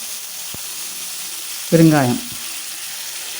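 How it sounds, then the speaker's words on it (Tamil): Mustard seeds, urad dal, fenugreek, curry leaves and asafoetida sizzle in about a tablespoon of hot oil as a tempering for sambar, a steady close frying hiss throughout, with one word spoken briefly. "இப்போ சாம்பாருக்கு நம்ம தாளித்து விட்டுடலாம்."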